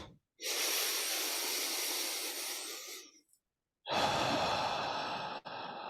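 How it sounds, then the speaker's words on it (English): Two long, close breaths drawn in through the nose, separated by a short silent pause, each a soft, steady airy hiss. "just take a breath in your nose"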